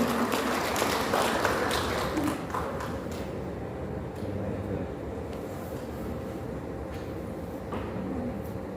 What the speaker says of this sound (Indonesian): Kasih tepuk tangan yang gemuruh untuk Malaysia.